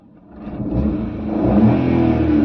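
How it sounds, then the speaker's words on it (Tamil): A Maruti Suzuki Alto 800 engine idling with a low steady hum that rises slightly in intensity, heard up close with no talking. "இன்ஜின் இப்போது ஐடலில் இருக்குது."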